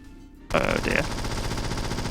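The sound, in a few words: automated turret firing machine gun, James Bond 007 Nightfire video game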